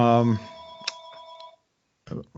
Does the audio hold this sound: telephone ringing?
yes